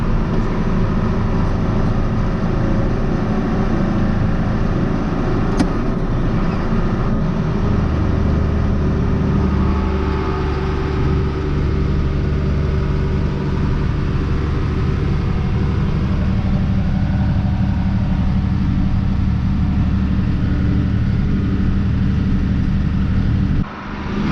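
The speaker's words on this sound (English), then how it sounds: "Then it's easier for the tractor to pull up a hill." A heavy tractor engine pulling a loaded grain cart drones steadily throughout, low and loud, holding a constant pull with a deep rumble and no voices.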